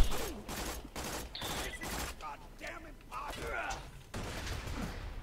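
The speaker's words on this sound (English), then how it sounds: "Someone threw a grenade." Borderlands 2 grenade explosion during co-op play, a burst of broadband blasts and crackling bangs over roughly the first two seconds, with further game noise and scattered shots afterward.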